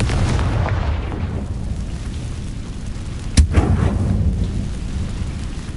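A single sharp blast from the Confringo fire spell in Hogwarts Legacy cracks out partway through, followed by a brief rumbling tail over a constant low game background.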